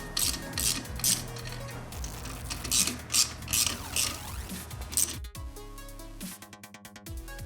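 A ratchet clicks in short metallic bursts while tightening clutch spring bolts in a crisscross pattern during a Hinson Billetproof clutch install on a motorcycle, close and clear with no talking.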